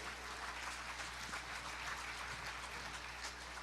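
A church congregation claps in a steady, diffuse wash of applause, faint and distant-sounding with a low hum beneath and no clear voices.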